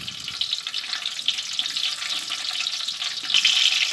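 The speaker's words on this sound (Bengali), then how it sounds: "দিয়ে দিলাম কিশমিশ।" Raisins dropped into hot oil with bay leaves, cinnamon and cardamom for shahi pulao, giving a steady bright hiss of frying that swells slightly near the end, with no voices.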